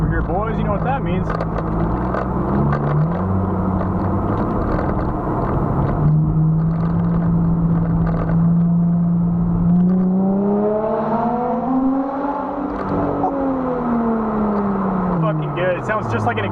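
Mercedes C300 fitted with an X pipe and muffler-delete exhaust accelerating, a loud, close engine note climbing through rising harmonics, dropping and climbing again in repeated sweeps, with occasional talk underneath.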